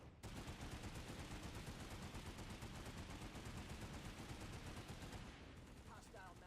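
A video-game weapon fires one long sustained burst of rapid gunfire, loud and dense for about five seconds before cutting off into faint game sounds.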